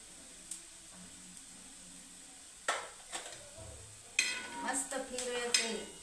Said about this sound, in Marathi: मस्त फिरवायचे.